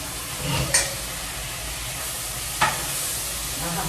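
Chopped tomatoes hit a hot frying pan while rajma is being cooked, a steady close sizzle broken by two clanking stirs of a spoon against the pan, with no talking.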